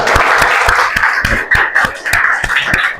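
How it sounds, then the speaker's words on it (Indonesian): Classroom applause for a student, a small group of pupils clapping briskly in close, uneven bursts with broadband slaps throughout. "tepuk tangan untuk Nada"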